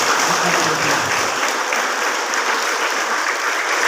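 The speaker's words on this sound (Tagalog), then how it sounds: "bigyan nyo ng palakpak ang mga kapwa natin officers" Steady, loud applause from a crowd honouring officers at an inter-agency basketball tournament, a dense wash of clapping with a brief voice underneath at the start.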